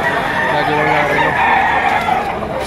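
A rooster crows loudly and close at a busy open-air poultry market in Lipa City, Batangas, one sustained call over a steady murmur of crowd noise.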